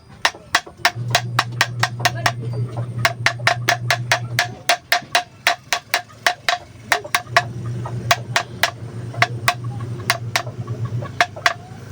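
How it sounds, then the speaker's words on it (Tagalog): Rapid, sharp hammer strikes on a tight-fitting part of an improvised silencer repeat in quick bursts, close and loud, with a steady low hum running beneath much of the sequence. "Gamitan natin ng pukpok"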